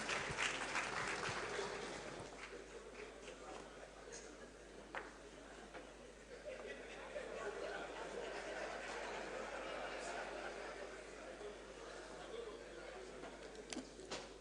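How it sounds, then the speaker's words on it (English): Applause from the audience at an oil and gas licensing round pre-bid conference in a hotel hall, a dense steady patter that runs throughout, fairly distant and moderately loud, with some talk and murmuring mixed in. "a round of applause for him,"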